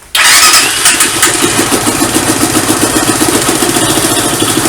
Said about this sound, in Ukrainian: Копнув з лапки і він завівся зразу, з першого разу.